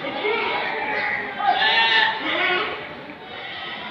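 A goat bleats at a crowded livestock market, one long wavering call rising and falling over steady background crowd chatter.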